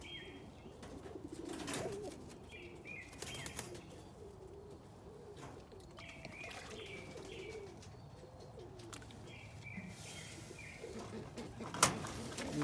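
Soft cooing of doves repeating over outdoor ambience, with scattered chirps from other birds, moderately distant and steady throughout.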